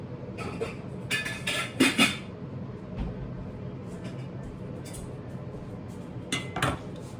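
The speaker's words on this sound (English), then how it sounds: "So now let me get the pot." Metal pots and pans clatter and clank in a few sharp bursts while a 2-quart saucepan is pulled out for stuffed food, the clinks close by and irregular over a quiet kitchen background.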